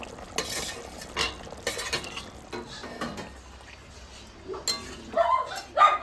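Potatoes and cauliflower being stirred in a pan, heard as intermittent scraping and clinks of a utensil against cookware in short bursts, fairly faint, with a few brighter metallic knocks near the end; no talking.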